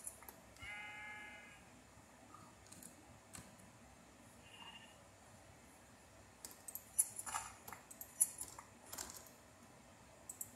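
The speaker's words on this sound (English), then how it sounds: "that was just from shearing 4 sheep" A Minecraft sheep bleats a couple of times early on as it is sheared, followed by clicks and mouse or keyboard tapping along with the soft pop of wool dropping, all fairly quiet against a steady low background.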